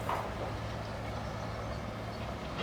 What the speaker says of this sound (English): He's doing for high pressure rinse already.